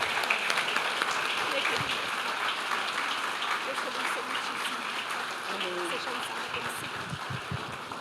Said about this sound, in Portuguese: Vamos aplaudir o Senhor pela vida desta mulher maravilhosa